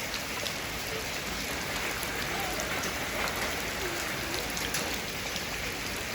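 Heavy rain pours down during a days-long storm over a flooding Thai village, a dense, steady hiss of drops hitting surfaces with no voices.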